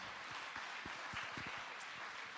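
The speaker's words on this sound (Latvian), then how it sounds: "Ar aplausiem un skaistu mūziku lūdzu fonā." Scattered applause from an audience at a Christmas ball and awards evening, a soft wash of clapping with a few distinct claps, fairly distant and moderate in level, without speech.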